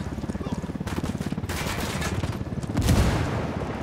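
Rapid automatic gunfire in the tactical shooter Ghost Recon Wildlands crackles in dense, loud bursts that continue almost without a break, with heavier reports near the end.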